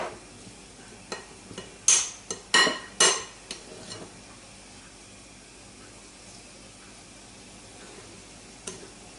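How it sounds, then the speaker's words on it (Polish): Oil sizzles softly and steadily in a pan as small banana doughnuts fry, with a few sharp metallic clinks and taps of utensils near the start. "Smażymy z jednej i z drugiej strony na złoto-brązowy kolor."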